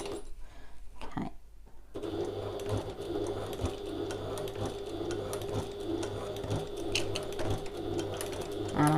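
A sewing machine stitches a leather-style satchel, its rapid mechanical needle chatter running steadily and close up after a brief start, with a few faint background sounds mixed in.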